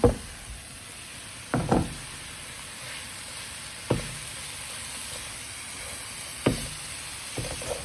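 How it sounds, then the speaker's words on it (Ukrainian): Shredded cabbage fries in sunflower oil in a pan, giving a steady close sizzle and hiss. A spatula knocks and scrapes against the pan several times at irregular intervals. "Капусту підсмажую на соняшниковій олії і потім додам моркву"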